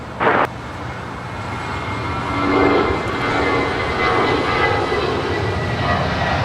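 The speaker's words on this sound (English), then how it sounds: "747-400 lighting up." Boeing 747-400 jet spooling up for takeoff from runway 25 right at LAX, a loud, broad engine roar that swells and holds steady, with a brief sharp knock near the start.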